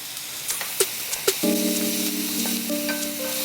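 Onions fry slowly over a low flame alongside crushed coconut, producing a low, even sizzle. A few short stirring scrapes are heard at the start, then a steady tone rings through the frying. No one speaks.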